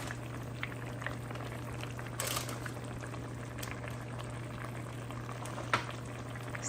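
Snapper fish stew simmers in gravy in a pot, giving a steady, close bubbling hiss with occasional soft pops, and no voices.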